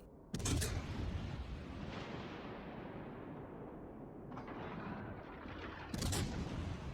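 Heavy naval guns from a Makarov cruiser boom in World of Warships: Legends, with a loud sharp volley at the start and another near the end over a continuous rumble of battle noise, with no talking.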